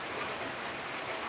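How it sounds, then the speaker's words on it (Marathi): Steady rain falling just outside a doorway, a soft continuous hiss of drops without breaks, fairly quiet and uniform throughout. "हा बघा हे पाऊस असं चालू आहे"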